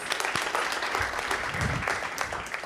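A room at a village board meeting breaks into a steady round of applause honoring a village employee for five years of service, with dense, even clapping from many hands that holds at one level throughout.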